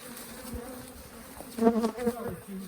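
Honeybees buzzing at an apiary, a steady droning hum that swells louder near the middle of the clip, with a faint background wash and no voices.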